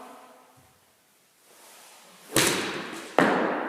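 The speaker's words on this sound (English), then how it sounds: "hit the ball really, really solid with a lot of acceleration through the golf ball" Two sharp, loud impacts of a golf club striking a golf ball, spaced under a second apart, each ringing briefly after a quiet stretch with faint background murmur.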